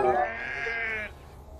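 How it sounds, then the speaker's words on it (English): A single sheep bleats with a loud, wavering, nasal cry lasting about a second, close by, followed by quiet background. "There were sheep on the tracks."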